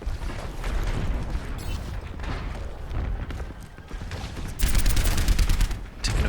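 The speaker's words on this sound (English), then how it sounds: "Taking a few shots down there on Roadhog" Rapid, dense gunfire from a soldier hero attacking Roadhog on the King's Row map in the Overwatch video game, with bursts of shots running throughout and growing louder near the end.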